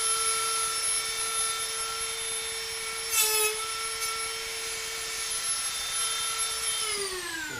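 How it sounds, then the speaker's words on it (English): A grinder works on a part during a 1966 Dodge Charger resto mod build, giving a steady high motor whine with a brief rougher burst partway through, then the pitch sags as it spins down near the end. "What if I just grind the head off here?"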